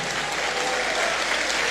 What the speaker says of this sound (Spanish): que se oigan los aplausos